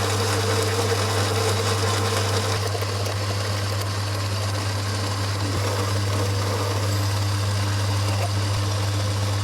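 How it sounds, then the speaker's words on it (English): A lathe boring out a part from a Triumph Trident T160 motorcycle: a steady, loud mechanical hum with a strong low drone and a bright cutting hiss over it, running continuously without pause. "stick it in the lathe, bore it out."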